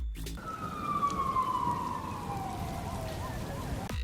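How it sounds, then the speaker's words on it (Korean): A police siren in a music video wails steadily, its tone sliding down and then warbling, fairly loud against a low rumbling background. "울려 퍼지는 경찰차 사이렌 소리"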